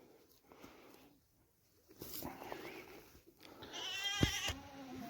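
Goats in a village pen bleating loudly and close by, several overlapping calls in the second half of the clip, preceded by quieter shuffling and faint background noise.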